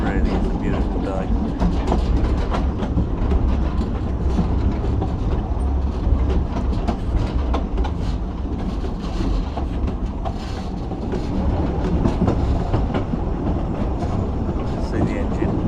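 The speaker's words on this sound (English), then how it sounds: "See the engine working away right to the front there." A narrow gauge railway engine at a country park works hard as it climbs a hill toward the main station, giving a steady, dense mechanical rumble with clanking throughout.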